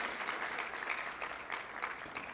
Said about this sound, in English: I think we need a little bit heavy applause for those remarks.